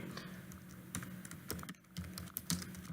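Keys clatter in quick, uneven bursts as C++ code is typed on a computer keyboard, close and moderately loud with brief pauses between runs and no talking.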